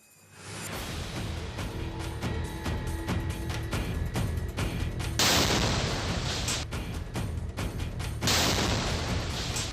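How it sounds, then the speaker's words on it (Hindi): An explosion goes off at a flag hung on barbed wire, making a long, loud roar of blasts and crackling bursts that swells and surges again partway through. "कटीली तारों पर टंगे झंडे से हुआ ये धमाका सुर्खियां बटोर रहा है"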